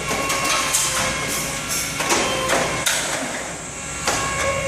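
A Howick steel framing machine punches, dimples and cuts a steel stud to length, giving repeated sharp metallic clunks and bangs over a steady mechanical whir at close range.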